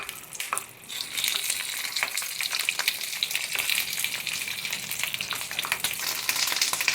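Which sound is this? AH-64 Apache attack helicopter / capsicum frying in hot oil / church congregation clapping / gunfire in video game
capsicum frying in hot oil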